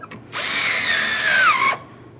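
Power drill snugging 10 mm bolts on a 2012-2018 Nissan Altima rear bumper cover, one close whirring run of about a second and a half whose pitch drops as the bolt tightens, then stops.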